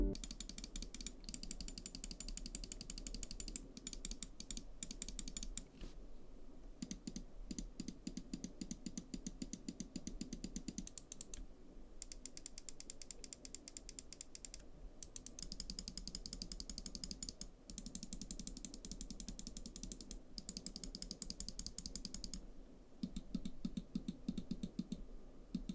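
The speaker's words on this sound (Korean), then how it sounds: "클릭 소리 자체는 다른 마우스에 비하면 꽤 큰 편이라" Rapid, crisp clicks of an Xtrfy ultralight gaming mouse in quick bursts with brief pauses, loud and close, with no talking.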